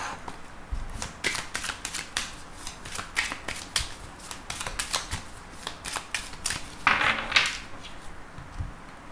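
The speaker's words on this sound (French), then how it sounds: "je reprends les cartes et on va voir aussi les messages du tarot" Tarot cards are shuffled up close, with quick, irregular riffles and crisp snapping flicks in uneven bursts and no talking.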